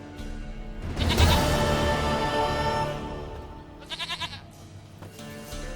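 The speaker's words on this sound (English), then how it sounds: "Goat of mine, dearest, sweetest goat." A goat bleats in The Witcher 3: Wild Hunt, giving a long, loud wavering cry followed by a shorter trembling bleat, with no talk over it.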